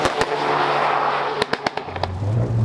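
A Stage 2 MK8 Golf R with a Miltech downpipe and factory exhaust tune crackles out a burst of sharp pops and bangs over a rumbling engine, loud and close, ending in a low revving drone.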